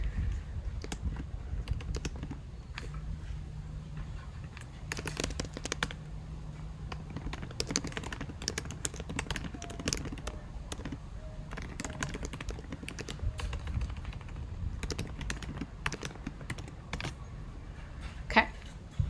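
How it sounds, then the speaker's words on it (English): Clicky bursts of typing on a computer keyboard at home, with short irregular runs of keystrokes close to the microphone, now and then pausing, over a low steady room hum and no speech. "I don't know why I was just typing in the comments"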